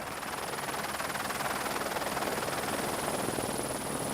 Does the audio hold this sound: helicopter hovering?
yes